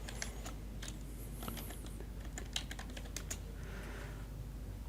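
Computer keyboard typing while an address is entered into a Microsoft Access database form: irregular, quiet key clicks in short bursts over a low steady hum, with no voice.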